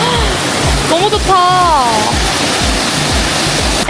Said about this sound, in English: you could hear the sounds of the flowing stream